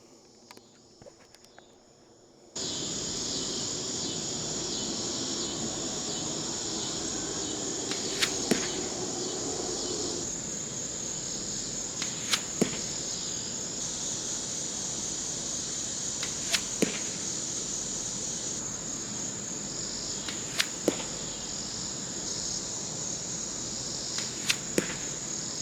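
UV 1K arrows flying past at a 60 distance during an outdoor sound test, heard as about five sharp, brief whooshing snaps roughly four seconds apart over a steady insect-like outdoor hiss, with no talking.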